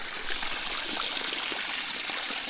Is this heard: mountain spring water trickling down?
yes